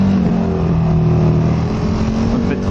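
A motorcycle engine hums steadily while riding through curves, a loud continuous drone with a sustained tone that shifts slightly in pitch, heard close and alone.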